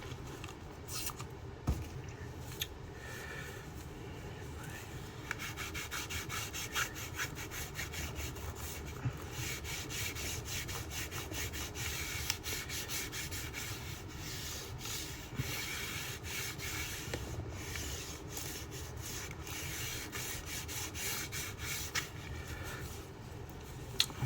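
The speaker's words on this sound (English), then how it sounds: "Just wiping the bezel off right now." Rubbing and wiping on a gaming laptop's screen bezel with cleaner, a steady close scrubbing texture running continuously throughout without talk.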